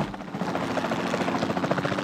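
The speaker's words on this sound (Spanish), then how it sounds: "Bajamos con el helicóptero a ver qué pasa." Helicopter in the Jurassic World Evolution 2 game, a steady rhythmic rotor thump with engine whine, moderately loud and continuous with no voices.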